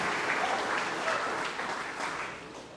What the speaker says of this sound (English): let's give a round of applause to Old Hound Dogs Booster Club